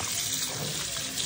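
Water runs steadily from a kitchen tap while fish is washed, a continuous close and fairly loud hiss of flowing water with no breaks.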